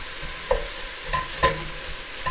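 Onions cooking in a pot over medium heat, a soft continuous sizzle with a few scraping stirs at irregular intervals, close and alone.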